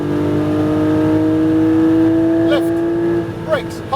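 A Porsche Cayman GT4's engine climbs steadily in pitch through a rev after an upshift and then drops off, heard from inside the car while a coaching voice talks over it.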